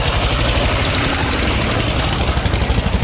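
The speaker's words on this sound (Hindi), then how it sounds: "ट्रैक्टर वालों का ट्रैक्टर खराब हो जाए भगवान करे, इतना आवाज़ करते हैं।" A tractor engine running loudly nearby, a continuous heavy, rumbling chug with knocking vibration and no breaks, filling the whole stretch without talk.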